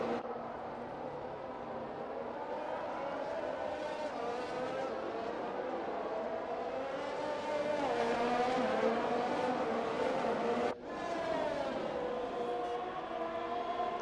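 Formula 1 cars from the F1 2021 racing game scream down the main straight, with a McLaren closing in; a continuous high engine whine rises in pitch through the gears, with one quick dip at a shift.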